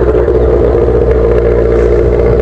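Jaguar XJ6 fitted with an 8-inch exhaust pipe, heard at a beach: a loud, deep, steady engine rumble with a heavy low drone, held close without pause.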